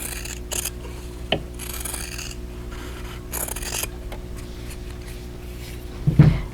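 Scissors cut through quilt fabric along a drawn line, making soft repeated rasping snips and rubbing sounds in several bursts, close and fairly quiet, with no talking.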